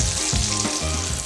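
Butter foams and bubbles in hot oil in a pan, giving a dense, continuous frying hiss with a few soft stirring movements, near and steady across the short moment, with no one speaking.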